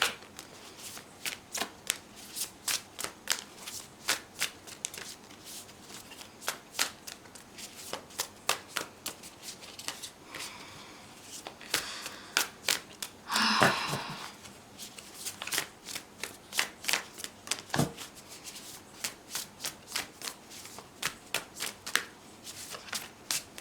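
A tarot card deck being shuffled up close, a steady run of crisp riffling card flicks and slaps repeating through the whole stretch, with a brief louder burst midway and no talking.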